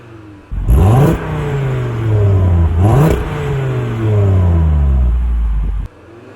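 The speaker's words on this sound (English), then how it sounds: "And if I just jump inside, I'll just give it a quick rev." An Audi RS3 engine revved while parked, three loud blips that rise sharply and fall back to a steady idle rumble between them, close and alone before cutting off.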